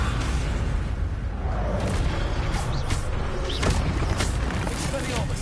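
A Levioso levitation spell goes off in Hogwarts Legacy, creaking whooshes and a low boom rising out of a thick, steady wash of game audio, with a voice heard in the mix.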